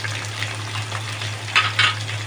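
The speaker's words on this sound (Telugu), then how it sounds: "వేయించుకోవాలి." Mint and coriander leaves frying in a pan for chicken haleem, a soft steady sizzle over a low hum, with two brief louder stirring scrapes near the end.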